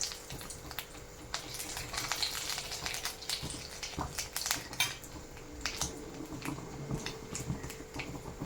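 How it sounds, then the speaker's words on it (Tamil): Asafoetida frying in a little hot oil in a pan, giving a steady soft sizzle with scattered metallic clinks of a utensil against the cookware throughout, fairly close and moderately quiet. "காயம் போட்டு பொரிச்சு எடுத்துக்கலாம்."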